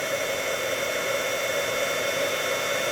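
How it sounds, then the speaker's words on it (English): An embossing heat tool blows hot air with a steady, hair-dryer-like whoosh, constant and close, with nothing else over it. "we're heating it, not with a hairdryer. It sounds like one."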